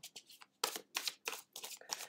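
Tarot cards are shuffled close up in quick bursts, about six crisp riffling rustles in rapid rhythm with short pauses between them.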